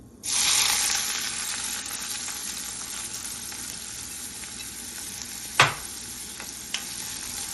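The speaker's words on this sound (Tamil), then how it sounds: "நல்லா வெங்காயம் வதங்கி வரட்டுங்க" Finely chopped onion and green chillies sauté in hot oil with cumin, a loud steady sizzle that bursts in near the start and holds, with a sharp clack of a utensil partway through.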